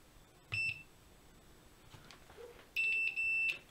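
Multimeter in continuity mode testing a manual changeover switch for power backup, giving a short high electronic beep, then a longer beep broken by a brief gap, clear over a quiet room.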